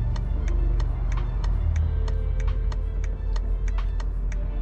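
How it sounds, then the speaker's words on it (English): A 2018 BMW 530e xDrive's turn signal ticks in a steady rapid rhythm inside the cabin while the car sits stopped, over a low engine and road hum. "A turn signal. This car is equipped with them."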